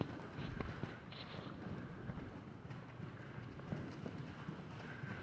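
Several horses' hooves walking with a faint clip-clop on firm ground, quiet and somewhat distant, with light wind noise and no talking.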